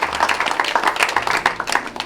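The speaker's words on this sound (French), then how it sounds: "je voudrais, s'il vous plaît, que vous puissiez applaudir pour les 66 ans de cette femme" Mourners at a celebration of life in Paris clap for a deceased woman's 66 years; close, steady, fairly loud clapping from a small crowd continues throughout with no pause.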